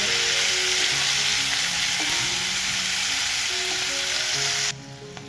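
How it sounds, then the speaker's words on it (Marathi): Green hyacinth beans sautéing with roasted garlic in a pan, giving a loud, steady, close hiss of frying with faint stirring, dropping off suddenly near the end. "आपण आता इथे घेवड्याची शेंग घालून घेऊया. चांगली आपण परतून घेऊया 2 मिनिट."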